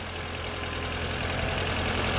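A Mini Cooper engine idles steadily, a low continuous rumble with a slight rough pulse, close and fairly loud with no talking.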